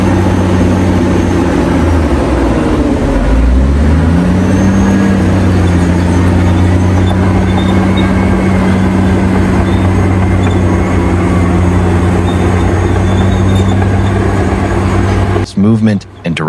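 A Caterpillar D9T bulldozer works at a mining site, its heavy diesel engine droning loud and steady throughout, with the engine pitch shifting partway through. A voice talks over the engine noise.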